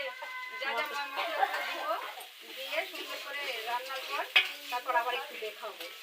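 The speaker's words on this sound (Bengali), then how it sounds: "বেগুনটা আলুটা দিয়ে একটু কষিয়ে নিব" Potato and eggplant stir-fried in a pan, a soft crackling sizzle and scraping stir that runs beneath someone talking almost continuously.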